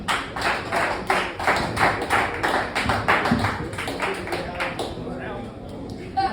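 Applause from an open mic comedy show audience, dense rapid clapping filling the room for about five seconds before thinning out and fading near the end.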